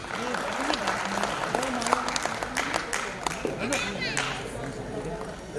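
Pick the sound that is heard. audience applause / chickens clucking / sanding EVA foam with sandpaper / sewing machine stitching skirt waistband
audience applause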